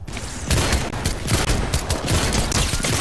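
Rapid bursts of video game gunfire crackle almost nonstop, loud and close, in a dense fusillade of overlapping shots with no talking.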